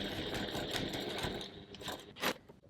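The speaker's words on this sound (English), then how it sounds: "So now we're going to stitch pretty close to the seam." A sewing machine runs steadily while topstitching close to a seam on a crossbody bag, a close mechanical whir with rhythmic needle clatter that eases off near the end.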